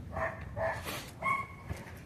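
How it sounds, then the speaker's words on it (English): Several dogs bark in short, harmonic bursts, moderately close, with a steady low background rumble between the barks. "just the barking of dogs"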